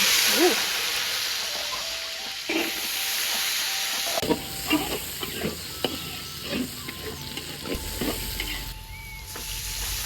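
Anchovy sambal fries in a pan with a steady sizzle and hiss, broken by repeated stirring scrapes and soft clicks, close and continuous.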